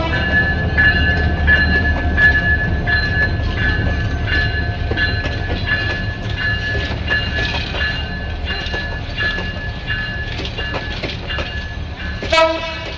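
An express train running by at close range on a rail line in Bangladesh bound for Patgram, with steady rumbling and clattering wheels and a sharp horn blast near the end.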